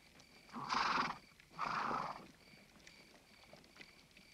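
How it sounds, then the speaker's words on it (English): Two loud horse whinnies in quick succession, fairly close, then faint hoof-like clops and rustling in a quiet outdoor setting. "I can hear horses."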